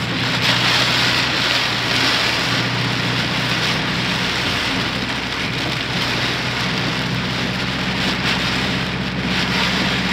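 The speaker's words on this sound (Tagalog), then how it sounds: "may bagyo po ngayon dito sa Metro Manila at sa Luzon" Heavy typhoon rain pounds steadily on a car while driving in Metro Manila, a dense continuous roar with a low engine drone underneath and no talking.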